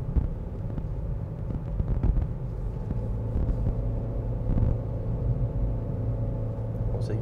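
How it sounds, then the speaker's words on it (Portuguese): A Chevrolet Cobalt climbs a small hill in third gear at about 60 km/h, heard from inside as a steady low engine drone with road rumble and light wind noise, continuous and fairly loud. "Vamos reduzir aqui um pouco para 60 por hora e vou subir em terceira marcha essa pequena subida aqui."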